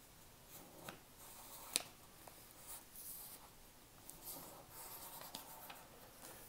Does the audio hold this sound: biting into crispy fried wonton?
no